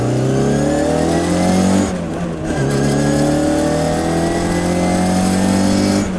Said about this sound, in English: Damn, this car's fast.